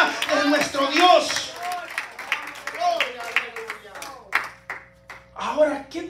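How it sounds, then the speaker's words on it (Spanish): A church congregation claps rhythmically while voices call out and sing over the clapping, loud and close. "Que ese aplauso se escuche más fuerte hasta la presencia de nuestro Dios."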